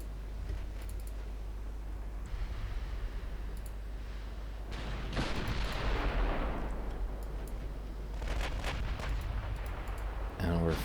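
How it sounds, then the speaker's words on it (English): Naval guns fire high-explosive shells in the naval warfare game Ultimate Admiral Dreadnoughts: a few muffled booms and rumbling blasts at moderate distance over a low engine-like drone, fairly quiet overall. "we're firing HE, which could mean that we're capable of penetrating the deck armor"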